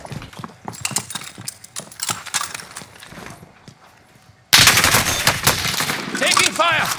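Bursts of gunfire in a Warzone Caldera firefight: scattered sharp shots at first, then a sudden loud, dense stretch of rapid fire that continues to the end, with faint voices in the background.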